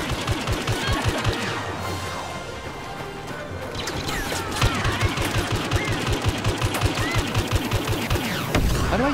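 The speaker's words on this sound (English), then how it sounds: "Right, so we're shooting stormtroopers this time." Rapid blaster fire from a Star Wars Battlefront firefight against stormtroopers, with dense repeated shots in quick bursts, loud and close, continuing steadily with crashes and impacts throughout.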